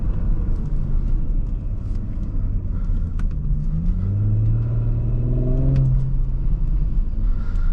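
A 2021 Audi S5 Sportback 3.0T without the sport exhaust accelerates in dynamic mode, its engine note rising through revs as a smooth, steady rumble inside the cabin, with no pops.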